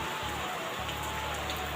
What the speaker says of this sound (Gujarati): આ વરસાદ એટલો આવ્યો જો